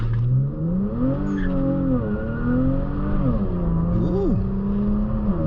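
Infiniti Q60 Red Sport launching hard from a traffic light with traction control off, its engine loud and close, climbing steadily in pitch through the gears and briefly dipping between shifts.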